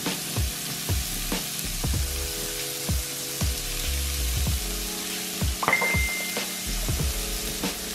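Curry powder sizzles in a hot pan along with salt and garlic, a steady fry broken by repeated soft scrapes and knocks of a utensil stirring, with a faint tonal hum running beneath.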